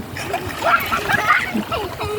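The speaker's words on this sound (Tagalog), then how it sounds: "Ayan, pinasok na ng tubig." Sea water splashes and sloshes in at a beach shoreline, a steady wet wash running through the whole moment while people talk over it.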